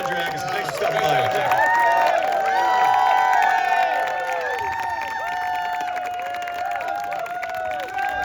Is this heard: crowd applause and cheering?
yes